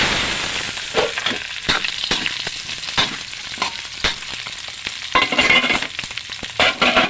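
Vegetables fry and get stirred in a hot pan, giving a steady close sizzle broken by repeated sharp scraping and clattering strokes of the utensil against the metal.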